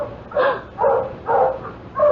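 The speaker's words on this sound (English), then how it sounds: "It's a whole gang of men with dogs, and they're headed this way." Dogs from a gang of approaching men bark in a steady series of four loud, deep woofs, evenly spaced and close, with no talk.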